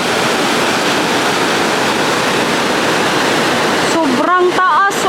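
Strong rushing water from a tall waterfall in Norway, a steady loud roar filling the whole clip; near the end a person speaks excitedly over the constant torrent.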